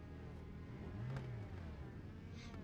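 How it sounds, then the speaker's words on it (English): USF-2000 open-wheel race cars idling and revving at Summit Point in iRacing, the engines giving a steady mid-pitched drone with one brief rising rev near the middle, continuous and moderately loud. "you hear folks revving the engine as they're trying to get the weight"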